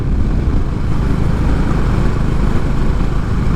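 A Honda CB 350 motorcycle cruises in fifth gear at about 85 carrying two riders, a loud steady rumbling drone with heavy wind buffeting and no pauses.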